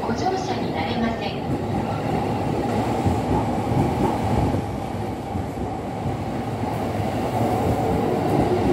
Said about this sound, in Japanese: The train will soon be passing through track number 4.